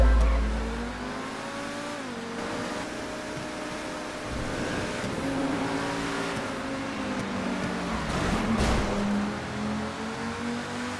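McLaren engine in GTA V revving steadily with shifting pitch as the car slides through traffic, a continuous loud whine with gear changes and no talking.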